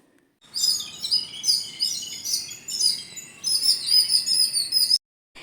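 Small birds chirp and twitter continuously in high, busy bursts in a yard in the morning, fairly close, with a brief quiet gap near the end.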